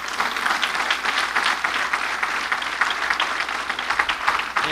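Loud, sustained applause from a church congregation gathered for a sermon in Pisco, many hands clapping together in a steady, dense roar that holds for several seconds with no voices over it.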